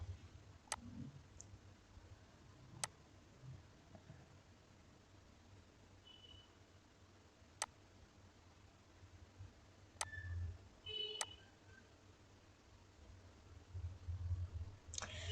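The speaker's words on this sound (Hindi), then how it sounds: "तो हमने एप्स पे क्लिक किया है" A computer mouse clicks sharply, a handful of isolated taps spaced several seconds apart, during work in the Canva design app over a quiet background.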